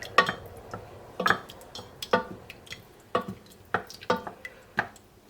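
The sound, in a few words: stirring ground cumin into rice in a pot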